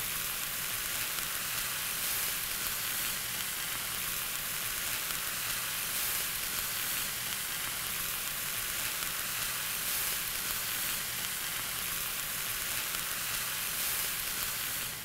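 Chicken breasts frying in a pan, a steady, even sizzle with fine crackling that holds at a moderate level throughout, uninterrupted by voices.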